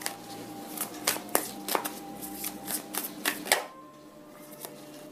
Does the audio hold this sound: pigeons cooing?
no